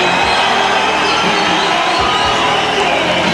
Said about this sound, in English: And the roar from the crowd.